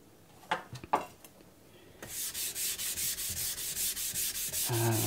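A Mcusta Zanmai gyuto knife is stroked across a 280-grit Cerax whetstone in about a dozen steady, rhythmic scraping passes, close and alone, after a few brief clicks and knocks.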